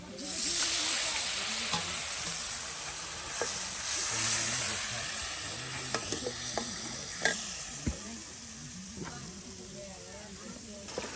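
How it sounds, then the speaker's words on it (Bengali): Fish sizzling and frying in hot oil during outdoor forest cooking, a steady crackling hiss with stirring scrapes and occasional sharp pops, fairly close and continuous. "এই যে মাছগুলো কিন্তু একদম আপনার ভেজে ভেজে এই যে বাটিতে রেখে দেওয়া হচ্ছে"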